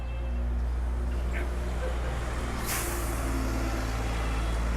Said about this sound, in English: These big buses manage these small streets too.